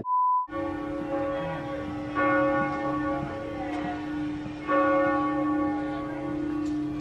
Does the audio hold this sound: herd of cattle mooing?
no